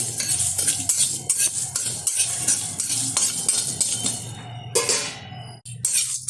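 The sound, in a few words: stirring spices frying in a pan for mango pickle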